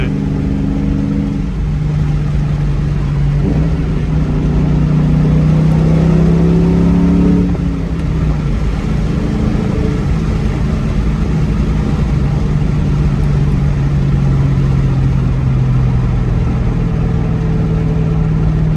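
A New Edge Ford Mustang engine drones steadily while driving, with a loud, continuous mid-low hum that rises briefly as it revs and then settles back, close and sustained throughout with no voices.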